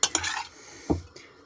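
A metal utensil scrapes and clinks against a pan as a dish is stirred, a few quick strokes close up, followed by a single knock.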